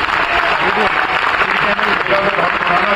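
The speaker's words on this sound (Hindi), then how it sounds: "आप एक बार इसरो के लिए जोरदार तालियां बजाएंगे।" A university audience at a Hindi stand-up comedy and poetry show applauds loudly, a continuous thick wash of crowd clapping that holds steady throughout with voices mixed in.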